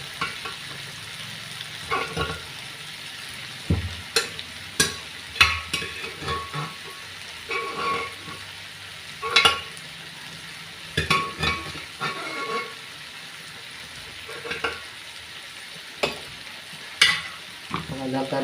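Bitter gourd slices and jackfruit seeds stir-fried in a pan: a soft, steady sizzle broken by repeated scraping and clinking stir strokes at an uneven rhythm, with no talking.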